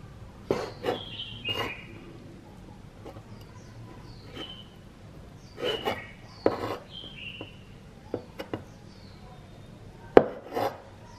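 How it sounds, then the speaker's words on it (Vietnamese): Shiitake mushrooms being chopped and minced with a knife on a wooden board, giving irregular bursts of sharp taps and scraping strokes that come close and fairly loud, with quiet pauses in between and no talking. "phần nấm đông cô này mình cũng thái nhỏ và băm nhuyễn"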